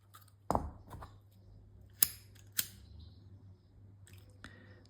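Bracelet threads cut with scissors: a few sharp, close snips separated by short pauses, with faint handling noise and a low hum in an otherwise quiet space, no talking.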